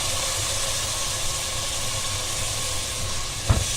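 Tomato sauce hits hot fried onions in a pan and sizzles with a loud, steady hiss throughout, with one brief thump close to the end.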